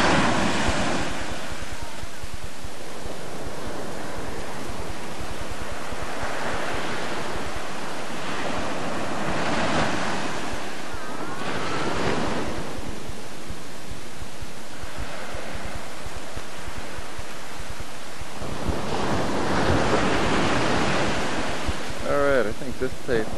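Ocean surf breaks on a beach in 1997, heavy washes swelling and receding in several slow surges over a constant roar, with strong wind buffeting the microphone and faint voices now and then.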